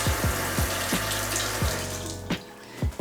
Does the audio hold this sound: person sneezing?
no